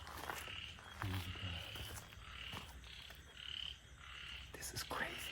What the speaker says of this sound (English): You can only just hear random sounds. I don't know what it is. Is it a frog or whatever?